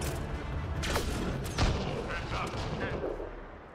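Gunfire in the sci-fi shooter Mass Effect Andromeda, several sharp shots and booms scattered over a few seconds amid busy game noise, with a voice talking in places.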